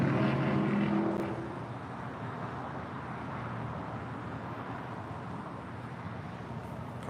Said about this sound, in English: The flight heading down 25 right was United Airlines flight 2190 heading to Las Vegas in a 737-900ER.